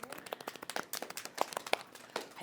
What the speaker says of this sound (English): Give yourselves a quiet little clap.